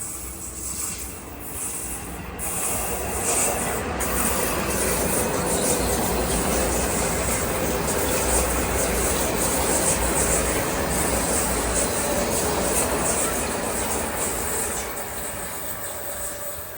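A Metro-North local commuter train pulls out on the Hudson line, a long steady rumble of wheels and engine heard close and loud throughout with faint squeals, and no distinct horn blast stands out.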